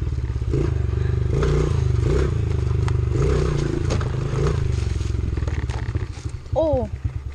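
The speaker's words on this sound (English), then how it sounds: "I'm just gonna be riding these trails right now." Dirt bike ridden along off-road trails, its engine droning and revving loudly and continuously close by, with rough clatter from the terrain and a few sharp rising rev pulls near the end.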